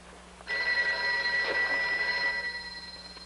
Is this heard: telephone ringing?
yes